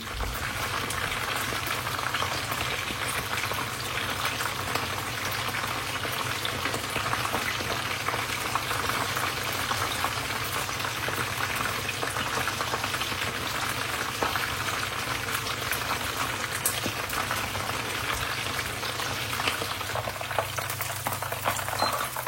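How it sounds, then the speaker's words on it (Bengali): Chicken deep frying in oil for Chinese-style fried chicken, a dense, bubbling, crackling sizzle that runs steadily and loudly throughout, close by with no voices. "ঝটপট চিকেন ফ্রাই শেষ"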